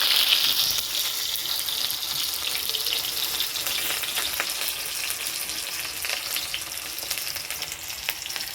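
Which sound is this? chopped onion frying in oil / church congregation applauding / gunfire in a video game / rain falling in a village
chopped onion frying in oil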